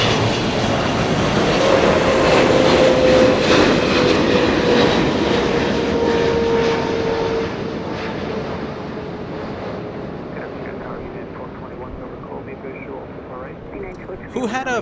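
A Swiss Boeing 777 airliner lands at LAX, its loud engine roar swelling close and then easing into a steady, fading rumble under a commentator's voice.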